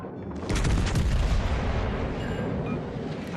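Heavy naval guns boom out in World of Warships Legends, a loud deep blast after half a second that rolls into a long rumbling decay with no talk over it.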